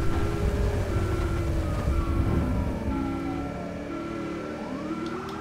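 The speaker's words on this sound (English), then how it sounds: "I can barely hear the fucking siren" Police car siren in the GTA V game with the LSPDFR mod, from a 2018 Dodge Charger on a rainy day, wailing faintly beneath a loud, steady rumble of rain and engine noise.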